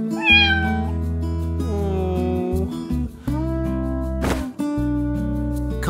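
Repeated cat meows from the Roblox game Brookhaven, clear and fairly close, rising and falling over steady game music with a short noisy burst near the end.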